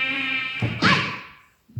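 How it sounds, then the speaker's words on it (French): Mosquito buzzing played as a sound effect in an outdoor stage show, a thin whining drone lasting about a second and a half, rising and fading before a short thump at the end. "Un moustique m'a piqué. Un moustique!"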